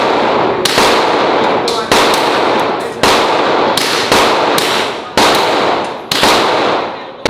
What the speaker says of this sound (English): We shot an M4. Felt like I was dropping into war zone. But the pistol low-key more fun.